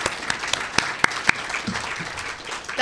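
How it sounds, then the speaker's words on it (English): An audience claps at a city mayor's State of the City address in White Rock, a dense wash of applause with a few sharp individual claps standing out near the start, steady and moderately loud throughout. "I would take a clap for that."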